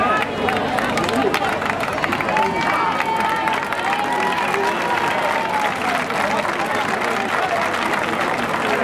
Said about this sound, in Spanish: Un fuerte aplauso con las manos de la gente.